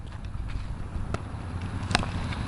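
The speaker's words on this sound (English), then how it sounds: "This horse knows me well." Horse hooves clip-clop on the ground after monsoon rain, a few soft, irregular steps close by against a low outdoor background, with one sharper knock standing out.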